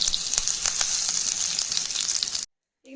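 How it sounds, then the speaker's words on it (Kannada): Mustard seeds, curry leaves and chilli crackle in hot oil for a chutney tempering in a village kitchen, a close, steady sizzle dotted with sharp pops that cuts off abruptly into silence. "ಸ್ವಲ್ಪ ಸಾಸಿವೆ ಹಾಕ್ಕೊಂಡಿದ್ದಾರೆ, ಒಂದು ಅರ್ಧ ಚಮಚ ಆಗುವಷ್ಟು, ಮತ್ತು ಒಂದು 4 ಕರಿಬೇವಿನ ಎಲೆನ ಹಾಕ್ಕೊಳ್ತಾ ಇದ್ದಾರೆ."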